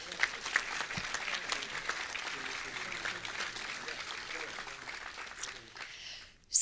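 Continuing audience applause at a brass band festival, a thick wash of clapping that holds steady for several seconds, then tapers off and stops near the end.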